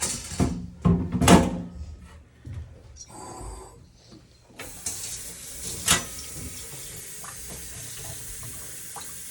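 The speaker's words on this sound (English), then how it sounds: "Always rinse the stuff with cold water or cool water." Cold running water rinses a milking machine tube and claw at a sink after milking a family cow, a steady close tap flow with bursts and splashes as the milk washes out.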